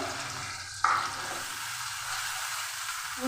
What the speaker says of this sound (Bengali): মশলাটা আমি লাল করে কষে নিচ্ছি